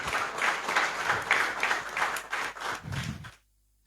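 An audience at a book launch in Cochabamba applauds: dense, sustained clapping from many people for over three seconds, then it stops abruptly into silence.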